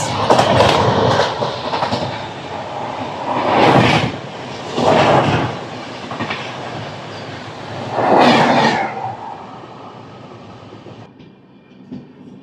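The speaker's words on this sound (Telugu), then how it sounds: "20854 Chennai central Bhubaneswar super fast express" The Chennai Central–Bhubaneswar superfast express rushes past at speed, a loud continuous rolling roar broken by repeated bursts of wheel clatter as coaches go by, then fading away at the end.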